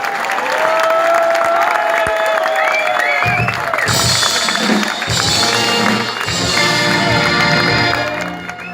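A concert audience at a Maastricht brass orchestra show breaks into loud applause and some cheering over the band's sustained playing, the clapping swelling partway through and carrying on for several seconds.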